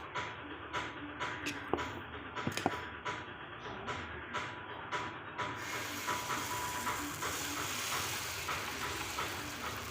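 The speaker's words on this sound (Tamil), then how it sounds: "தோசைக்கல்லில் தோசை ஊற்றிடலாம்." Ragi dosa batter hitting a hot dosa griddle, with scraping clicks early on, then a steady loud hiss of sizzling that builds and continues close by.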